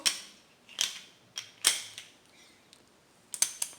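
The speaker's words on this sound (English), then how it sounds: "I went and got me a 3/2 inch ratchet" A 3/8 inch ratchet with a socket from a Torx and external socket set gives a handful of sharp, close metallic clicks in irregular bursts, with quiet gaps between them and no talk.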